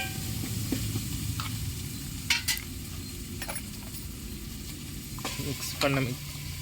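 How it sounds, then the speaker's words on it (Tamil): A spicy chicken gravy (kulambu) is stirred in a pot, with a soft continuous simmering sizzle and several brief scraping clinks of the spoon, close and fairly quiet. "அப்படியே ஃபுல்லாக மிக்ஸ் பண்ணி காமிக்கிறேன் பாருங்கள்."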